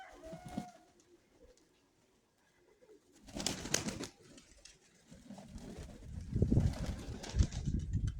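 Pigeons coo in bursts around a loft, with soft low calls and a few wing flaps, separated by near-quiet gaps and growing busier toward the end.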